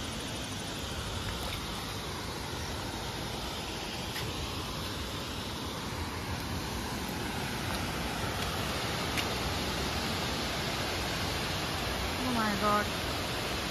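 Sita Falls waterfall near Ranchi produces a broad, continuous rush of falling water that stays steady throughout, and a voice speaks briefly over it.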